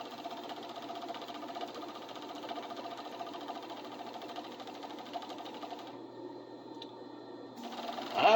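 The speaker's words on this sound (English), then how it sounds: "I'm cutting off the selvage on the edge of the fabric and serging that." A serger trims the selvage off a fabric edge and overlocks it, running in a steady, even whir throughout. Near the end it shifts pitch briefly, then ends in a louder clunk.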